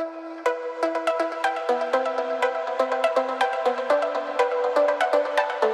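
Bright synth plucks in a trance track, a steady run of short, crisp notes in a stepping melodic pattern over a soft, high sustained pad, moderately loud with no voices.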